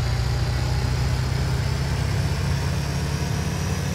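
A tractor engine in the video game Farming Simulator 19 gives a loud, steady droning rumble that holds evenly throughout, with no talking over it.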